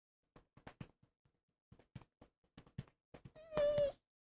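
Cat meowing indoors, a single drawn-out, fairly loud meow at the end, after a series of knocks and pats.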